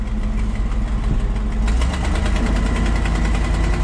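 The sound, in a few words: auction crane engine idling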